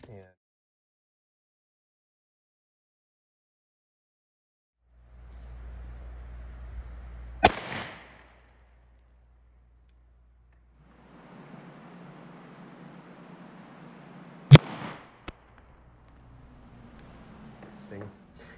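Two sharp, loud gunshot cracks from a Sig Sauer P238 pistol firing .380 auto lead-free hollow point rounds, spaced several seconds apart outdoors, each preceded by a low rushing noise, with a brief faint click after the second.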